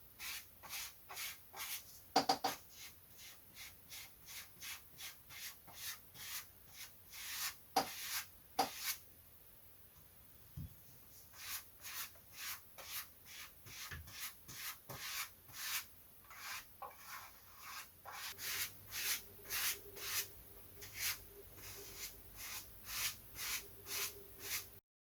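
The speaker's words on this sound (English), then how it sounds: "let's get some varnish on and get it drying. Just soak the brush a bit." A brush works varnish onto tissue covering a pre-WW1 style radio-controlled model aircraft, giving soft, repeated close strokes in a steady rhythm with brief pauses, quiet and alone.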